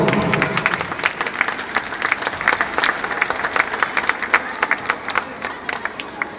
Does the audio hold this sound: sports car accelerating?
no